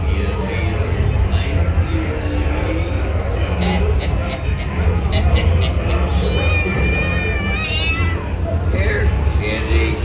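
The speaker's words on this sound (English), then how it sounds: "Here, kitty, kitty," A cat meows and caterwauls amid a noisy theme-park crowd at Disneyland, the cries rising over the steady hubbub and chatter.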